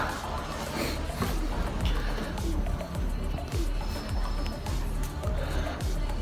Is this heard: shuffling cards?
no